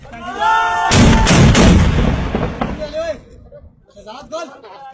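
Mortar fire in a military firing exercise: a heavy, loud blast with a booming tail and a couple of follow-up cracks, with shouted speech before and after.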